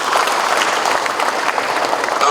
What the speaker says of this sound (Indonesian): Tepuk tangan dulu untuk rumah kaki seribu.